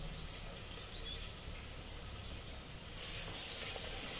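Chopped tomatoes, curry leaves, mint and coriander sautéing in a pan for biryani, giving a steady, soft sizzle with a hissy texture that brightens and grows slightly louder toward the end, with no talking.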